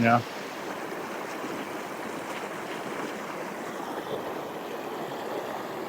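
Broad, steady rush of white water pouring over a long-forgotten broken dam on a river, heard continuously at moderate level as a dense hiss and roar with no breaks.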